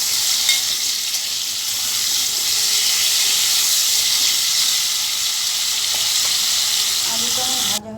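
Potatoes frying in hot oil in a pan for a soybean curry, a loud, steady sizzling hiss close up that carries on unbroken until a brief clatter at the very end.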